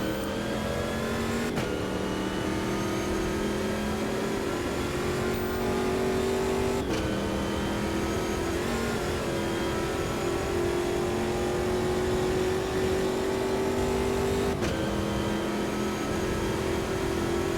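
Copa Montana pickup truck race engines in the racing game Automobilista 2 drone loudly and steadily, with sharp shifts every few seconds as the revs drop and climb again, running on without any voices.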